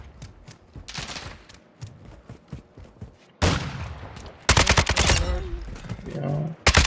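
Rapid automatic gunfire in Call of Duty Modern Warfare II, repeated loud bursts of shots in quick rhythm, interrupted by gaps and intensifying toward the end, with voices talking in between.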